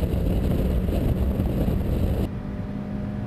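Skoda Fabia vRS engine droning steadily as the car drives on a track, a loud even whir that drops abruptly in level near the end, with no talk.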